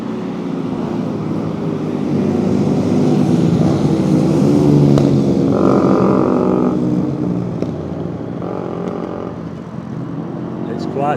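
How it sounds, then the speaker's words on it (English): Motorbikes racing along the Blackpool promenade, a steady engine roar with rising revs passing at mid distance, continuous over crowd and street ambience. "I've got a motorbike race going on now."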